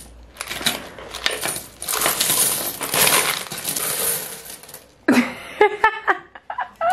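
Coins pour out in a long, dense metallic jingle, followed by separate bright clinks as individual pieces are dropped and sorted.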